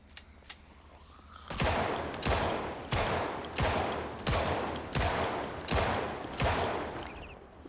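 Seven heavy gunshots from a video game boom in a slow, evenly spaced sequence, each with a sharp crack and rumbling tail, after a quiet, faint start.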